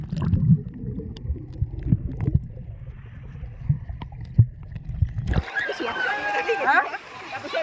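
Splash of someone diving into a water park pool, a sudden bright burst of churning water after a stretch of low talk and background noise, followed by bubbling and sloshing close by.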